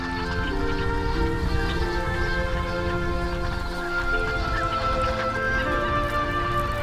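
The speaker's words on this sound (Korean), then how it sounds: "해마다 겨울이 되면 4천여 마리가 넘는 철새들이 이곳을 찾는다." A large wintering flock of migratory geese and ducks honking and calling together in a dense, continuous chorus, loud and close, at an urban park wetland in Korea.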